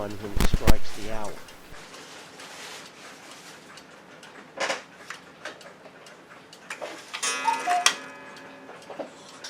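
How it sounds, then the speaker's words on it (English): An 8-day cuckoo clock with a music box and twirling dancers ticks softly at close range, with a few louder mechanical clunks and a brief whirring chime near the end over quiet room noise. "Another 8-day clock is the cuckoo clock, and it's a favorite among collectors."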